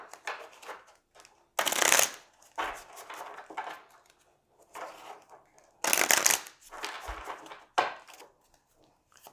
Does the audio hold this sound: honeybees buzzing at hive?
no